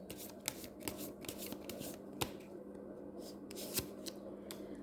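Tarot cards being shuffled up close, a rapid series of sharp riffling snaps and soft rubs with a few louder clacks, over a faint steady hum and no speech.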